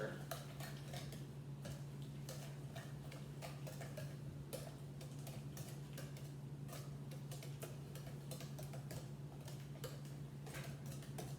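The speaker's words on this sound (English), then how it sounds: "we're just going to mash these bananas in with the eggs, butter" Bananas mashed with eggs, butter and sugar in a bowl, a faint run of regular tapping clicks from the utensil over a steady low hum.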